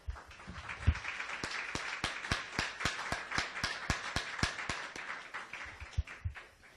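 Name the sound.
congregation applauding in church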